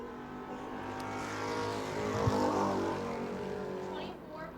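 A Bomber B class race car, number K9, accelerates off a corner during qualifying at New Smyrna, its engine note rising and swelling as it passes, then fading, with a commentator talking over it.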